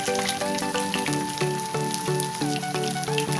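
Rice vada, made from leftover cooked rice, frying in hot oil: a steady sizzle runs throughout under loud melodic background music.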